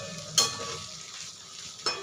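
Egg bhurji stir-fried in a pan on a gas stove: a soft continuous sizzle with two sharp spatula scrapes against the pan, close and quiet.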